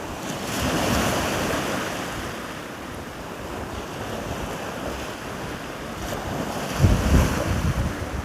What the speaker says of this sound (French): Je vous laisse avec le bruit des vagues pour ce deuxième jour.